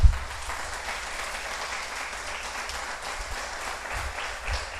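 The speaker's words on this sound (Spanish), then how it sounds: "Denle un aplauso al Señor por eso." Steady congregation applause fills a church service, an even wash of many hands clapping at moderate distance with a few low thumps, continuing without speech.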